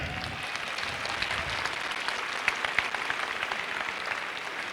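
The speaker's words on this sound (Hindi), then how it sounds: "जोरदार तालियां एक बार।" Loud, steady applause from a seminar audience fills the hall, a dense wash of many hands clapping together with a few sharper claps standing out, no voices over it.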